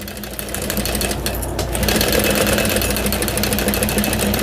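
Sewing machine back stitching at the start of a seam on a Howie bowler bag, a steady close mechanical whir that runs continuously and grows slightly louder through the clip, with no talking.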